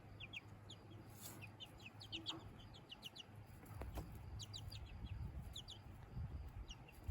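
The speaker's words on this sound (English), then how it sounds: "That's the flock. 2 midnight majestic Morans, 2 silver Wyandottes, 2 sapphire gems, 1 Rhode Island red, and 1 white Wyandotte." A backyard flock of Marans, silver and white Wyandottes, Sapphire Gems and a Rhode Island Red clucks and calls softly at a moderate distance, with scattered bird chirps over a steady low hum.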